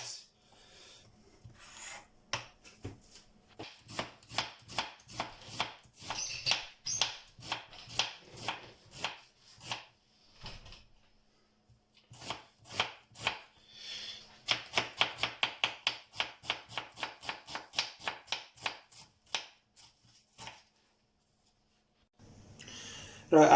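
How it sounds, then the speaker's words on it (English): Onions being sliced with a knife on a cutting board for chicken biryani: slow, evenly spaced crisp cuts in several runs, with pauses and a faster burst midway, close and clear with no talk. "I'm doing this pretty slowly so you can see how I'm slicing the onions."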